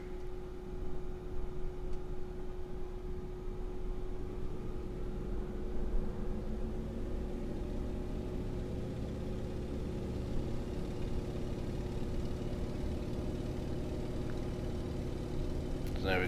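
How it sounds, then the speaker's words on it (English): Antonov An-2 radial engine in Microsoft Flight Simulator, idling steadily with a low droning hum and a constant tonal whine, staying fairly even and moderately loud throughout with little sign of a throttle climb. "let's have a listen to the engine sounds. I mean, it's relatively quiet at the moment, but I am on idle, so let's throttle up"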